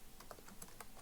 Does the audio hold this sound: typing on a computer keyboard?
yes